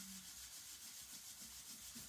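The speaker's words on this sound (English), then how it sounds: "You can just rub it off." Pigment paint is being rubbed off a handmade Christmas card, a faint, soft, continuous scrubbing and rubbing close by with no talking.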